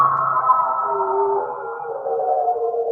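A steady siren-like wailing tone in a music beat drifts slowly in pitch over a soft low beat, sustained and fairly loud throughout.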